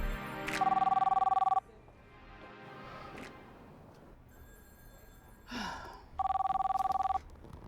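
An outgoing phone call rings through a handset, giving two long trilling rings separated by a quiet gap with faint breathing and small movements, close and clear.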